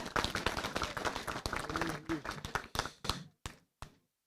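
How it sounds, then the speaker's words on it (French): An audience at a mayor's New Year ceremony claps for an honoree, starting as dense applause with some voices, then thinning into a few scattered, separate claps that stop. "Oui, on peut l'applaudir."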